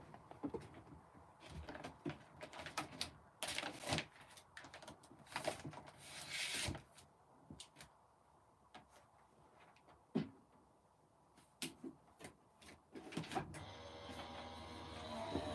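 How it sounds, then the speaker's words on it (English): An electric die cut machine runs papercraft pieces for an A5 card through its rollers, giving uneven mechanical whirring and clunking bursts that settle into a steadier hum near the end, with no talking. "So I'll pop all this through my die cut machine."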